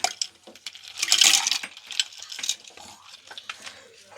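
Ice cubes dropped into a glass of milk with coffee powder and icing sugar, a quick cluster of bright clinks and knocks, close and fairly loud, followed by lighter scattered taps.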